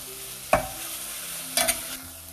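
Ginger garlic paste frying in a pan for kuska biryani, a soft sizzle under a few sharp spatula stirs and scrapes against the pan, with no talking.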